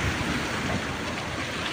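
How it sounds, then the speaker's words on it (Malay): Strong steady wind roars at a fishing jetty at Tanjung Rhu during surf casting, with big waves at high tide; a dense, unbroken rush fills the whole moment, with no voices. "Angin kuat lah geng."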